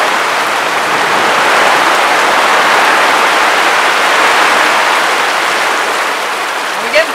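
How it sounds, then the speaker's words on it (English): Heavy rain during a storm, a dense and steady hiss of downpour that stays loud for the whole clip, with a brief sharp knock near the end. "Plenty of rain for the garden,"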